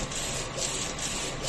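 A DTF printer runs at an LCC branch in Legazpi, giving off a steady mechanical whir and faint rubbing from its moving parts, moderately close and uninterrupted.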